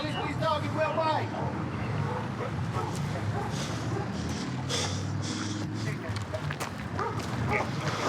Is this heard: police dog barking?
yes